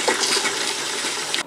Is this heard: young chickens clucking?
no